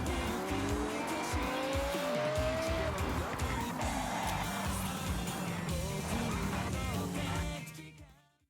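A car driven in Forza Horizon 5, with a loud engine climbing through gear shifts under squealing tyres and skids, close and continuous before cutting off abruptly near the end.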